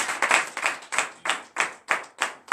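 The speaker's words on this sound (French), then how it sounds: "Donne l'acclamation à sa parole." A church congregation at morning prayer in Benin claps in a steady unison rhythm, about eight sharp group claps spaced evenly, moderately loud and without other sound.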